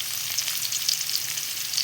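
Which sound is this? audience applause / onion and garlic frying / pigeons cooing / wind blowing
onion and garlic frying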